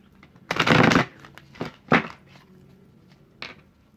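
A deck of cards being shuffled and cut, with one loud half-second riffle followed by a few softer slaps and taps on a surface, close by and with no voices.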